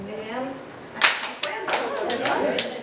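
Several sharp hand claps ring out at uneven intervals, counting off steps in a classroom robots-and-flowcharts activity, loud and close, with children's voices chattering underneath between the claps.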